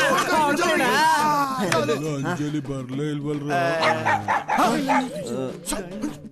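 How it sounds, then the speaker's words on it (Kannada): A dog barks and yips repeatedly in a comedy scene set around a college, mixed with lively overlapping talk from several people. "ನಾಯಿ ಬೊಗಳ್ತೈತೆ ನೋಡ್ರು,"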